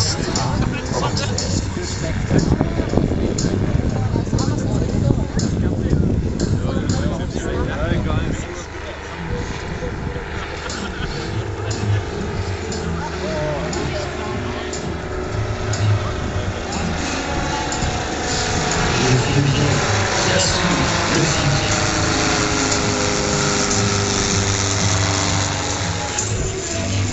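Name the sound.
PT-17 model airplane engine in flight at a model show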